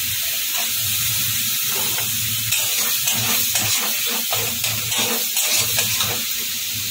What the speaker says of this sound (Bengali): মশলাটাকে ভালো করে ভাজবো। কেটে রাখা টমেটোটা এর মধ্যে দিয়ে দেবো।